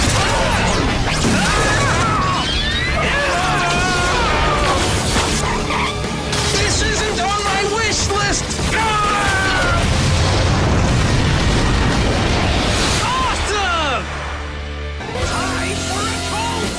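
Dino Spike final strike blast from Power Rangers Dino Charge, a loud, dense crash of booming impacts and whooshing effects running almost continuously, with shouted voices and music mixed in.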